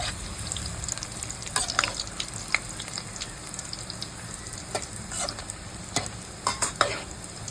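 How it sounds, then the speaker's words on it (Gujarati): Muthiya dough balls for churma ladoo fry in hot ghee with a steady close sizzle, punctuated by repeated scraping and clinking as a ladle stirs and turns them in the pan, with no voices. "જેટલા આવી શકે ઘીમાં એટલા તળી લેવાના"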